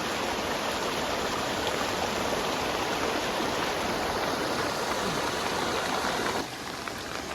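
Fast flood water rushes loudly and continuously through a village field, a dense roaring flow close by with no other sounds, easing slightly near the end.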